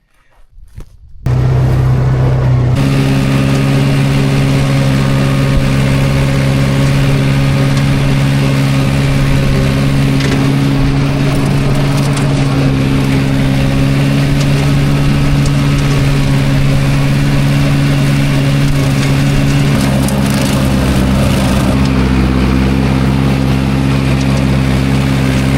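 A Mahindra tractor engine runs on a small farm, holding a loud, steady mid-pitched drone near the mic after a short start, with a slight shift in tone toward the end and no talking.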